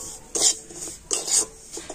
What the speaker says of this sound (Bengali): তো এখন আমি সুজিটা ঘিয়ের উপর দিয়ে দিচ্ছি।